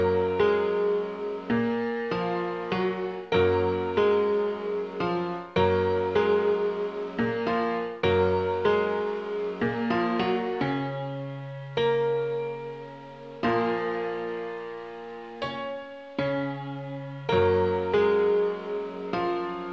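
Hybrid keys virtual instrument in Kontakt plays a melody alone: sustained layered synth-piano chords and notes struck in a steady pattern, bright and full without any voices.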